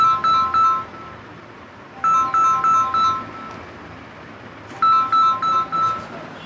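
A phone rings during a math class, sounding as three separate bursts of repeated electronic beeping tones with short quiet gaps between them, fairly loud and close, with no talking.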